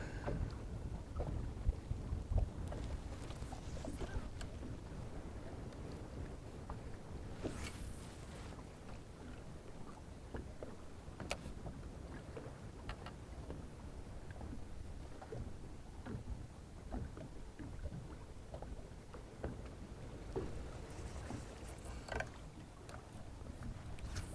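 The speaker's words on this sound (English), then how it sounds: "Whew, that wind." Wind gusting across an open fishing boat on a cold day out walleye fishing, a steady broadband rush with buffeting microphone noise and small knocks of the hull and gear, continuous and fairly loud throughout.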